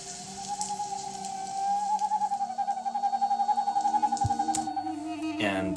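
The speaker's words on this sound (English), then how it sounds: "We've also got the animal calls to mimic the environment of a rainforest." Animal calls meant to evoke a rainforest sound within a music piece: a sustained hooting, owl-like tone with rapid pulsing flutter, fairly loud and steady, ending in a quick rising whistle.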